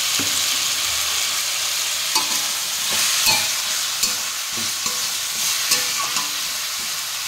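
Cabbage and tomatoes fry in mustard oil with salt in a pan, giving a steady, close hiss of sizzling broken by scattered scraping clicks of stirring, with no talking.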